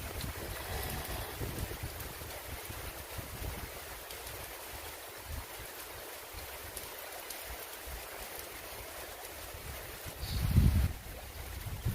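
Heavy rain and wind pour steadily around a hut at a countryside rice field, a dense constant hiss with a brief louder gust near the end, no talking.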